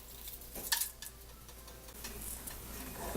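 Whole garam masala frying in hot ghee in a pan, a soft steady sizzle with small crackles and a few light taps of a spoon, fairly quiet and close.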